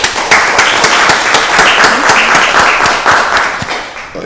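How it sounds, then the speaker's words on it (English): At a county board of commissioners meeting, a small room of people gives a round of applause, with distinct individual claps rippling in a loose, irregular rhythm that carries on for several seconds before thinning out. "So let's give them a round of applause for that"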